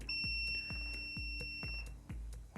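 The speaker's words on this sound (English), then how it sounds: "Why are you beeping? Oh, we're in diode mode." A multimeter set to diode mode beeps repeatedly at the bench while a Fanuc Robodrill backlight inverter is being probed, a short regular train of close electronic beeps over a faint steady tone.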